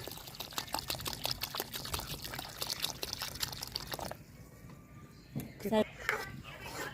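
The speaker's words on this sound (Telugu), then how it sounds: "ఇంకొన్ని వాటర్ యాడ్ చేస్తున్నానండి" Water pours in a steady splashing stream into a cooking pot of moong dal lemon rasam for a few seconds, then stops; a person talks over it and drips follow.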